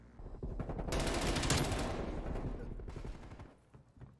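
Rapid MP5 submachine gun fire in the Call of Duty: Black Ops Cold War video game, a dense rattling burst of automatic shots swelling loud then trailing off, with game sounds around it.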